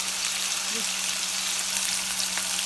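Steak sears in a pan for Thai crying tiger with a loud, continuous crackling sizzle that holds steady throughout, with no voice over it.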